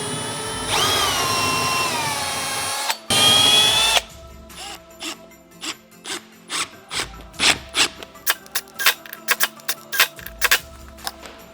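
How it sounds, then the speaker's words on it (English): A power drill pre-drills hinge holes in a 36-inch-wide wall cabinet. Two loud sustained whines rise and fall in pitch, then a rapid run of short clicking bursts follows as the trigger is pulsed. "we're going to pre-drill each side and each hole to get it ready for the door hinges"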